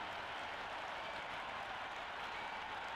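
A crowd in a Cricket 26 match stadium roars and applauds steadily, a broad distant wash of cheering with no breaks and no talk.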